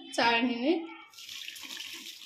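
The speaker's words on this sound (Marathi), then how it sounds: "चाळणीमध्ये ओतून घ्यायचं आहे। पाणी वेगळं करायचं आणि भाज्या वेगळ्या करायच्या।" A short voice, then a steady splashing rush of water poured through a strainer as boiled vegetables for pav bhaji are drained, running for about a second.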